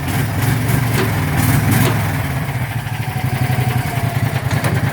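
The 225 engine runs just after starting, a loud, close, rough mechanical drone that settles into a steady pulsing idle, with no talking.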